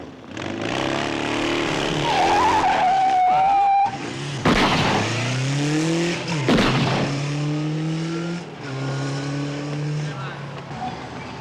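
A motorbike revs and pulls away in an alley, its engine note climbing in rising sweeps that recur several times, loud and close, with voices talking over it.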